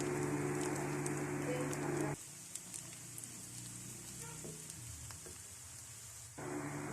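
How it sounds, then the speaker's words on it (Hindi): Onion lightly frying in a pan for a macaroni dish, a steady soft sizzle that drops away for a few seconds, with faint clinks, before resuming. "बस हल्का सा फ्राई किया है मैंने प्याज को"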